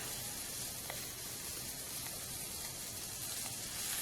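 Squirrel meat frying over the heat at a woodland camp, a steady soft sizzle with faint crackles, quiet and continuous with no talk.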